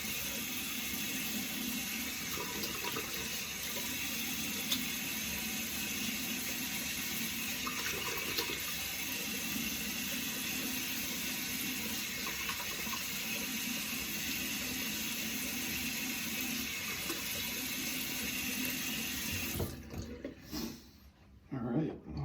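Warm water runs from a bathroom tap into a sink during shave prep, a steady close rush that lasts a long stretch before cutting off near the end.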